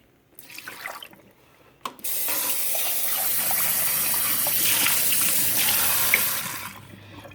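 Rinse water poured from a cup into a sink, a steady splashing gush that runs for several seconds and then stops, preceded by brief handling sounds.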